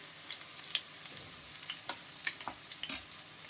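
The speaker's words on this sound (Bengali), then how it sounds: "এইভাবে আমি চামচ দিয়ে করি এই কাজটা, এটাই আমার সুবিধা মনে হয়। এইভাবে আমি সবগুলোকেই উল্টিয়ে দিচ্ছি।" Drumstick flower fritters sizzle in hot oil as a spoon flips them, with a steady frying hiss broken by small scraping clicks and pops, fairly faint and without voices.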